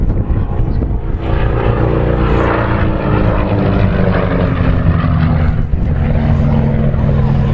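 A Percival Provost propeller trainer flies past at an airshow, its piston engine droning loud and steady with a slowly shifting pitch over the whole stretch, a voice faintly audible underneath.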